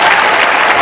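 An audience in a hall claps for a speaker, a brief, loud, dense burst of many hands with no pauses.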